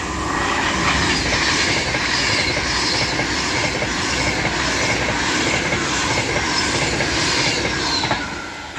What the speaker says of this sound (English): The next train to be coming through will be an Avanti West Coast Class 390 running from London